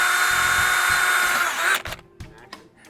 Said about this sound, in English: Okay, now that I've drilled the holes,